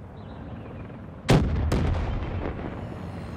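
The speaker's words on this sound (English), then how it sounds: "Grenade!" A grenade detonates in a military shooter video game with one sharp, loud blast followed by a second burst and a rumbling decay; no talk during the explosion.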